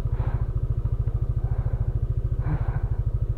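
Motorcycle engine on a ride to Infanta and General Nakar in Quezon, running with a steady, rapid low-pitched pulsing throb, loud and close, with brief swells in revving and no voices.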